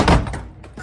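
A house door thuds shut once at close range as someone heads out, a short heavy knock that fades into faint room noise.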